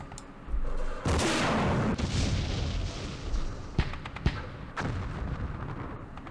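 Mortar and artillery fire from the Vietnam war game Campaign Series Vietnam, set in the Battle of Hue: a loud, dense rumble of blasts, with several sharp separate impacts cracking through toward the end.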